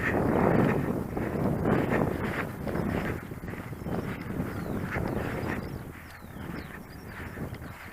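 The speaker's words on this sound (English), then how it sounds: "The wind's getting up." Gusty wind buffeting a microphone across an open model-aircraft flying field, a steady low rumble rising and falling in loud swells with no talk.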